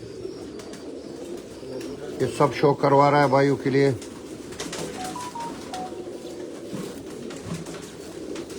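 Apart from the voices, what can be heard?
pigeons cooing on rooftop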